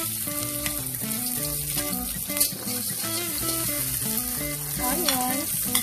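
Garlic sautéing in a pan for pork menudo gives a steady, close sizzle that runs the whole time beneath a melodic background music track.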